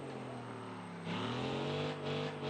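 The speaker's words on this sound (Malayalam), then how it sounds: "പക്ഷെ എഞ്ചിന് ഒരേ സൗണ്ട് സഹിക്കാൻ വയ്യ" A Land Rover Defender engine drones steadily in first gear with strong low harmonics, then grows louder and rises in pitch as it pulls harder, with no talking.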